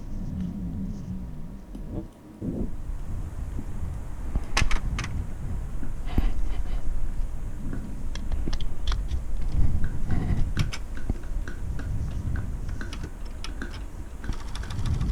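The gear of an old 1990s-2000s stereo CD player spinning endlessly with the tray removed: a steady mechanical whir laced with rapid small ticks and clicks, close up, running without pause.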